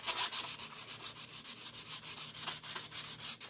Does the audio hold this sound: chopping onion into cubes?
no